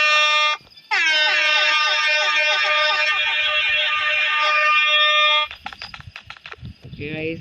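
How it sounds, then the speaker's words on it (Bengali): An air horn in the Dude Theft Wars video game gives a short blast, then a loud, steady, tonal blare lasting several seconds. It cuts off abruptly and is followed by talking. "এয়ার হর্ন তেমন কিছু কাজের না"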